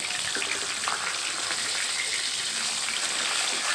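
Water poured into a hot pan of frying fish heads, a steady hissing gush with sizzle spread across the whole moment, fairly loud and close, with no voices.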